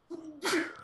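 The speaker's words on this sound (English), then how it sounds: "I'm gonna sneeze." A single close sneeze: a brief voiced intake followed by a sharp, breathy burst, loud and isolated.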